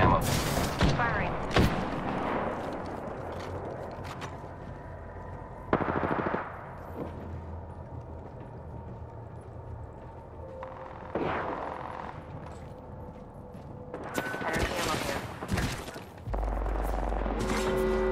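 Apex-style shooter game: close, loud bursts of automatic weapon fire open the clip, followed by intermittent shots and booms over several seconds, with a player's voice talking between the volleys.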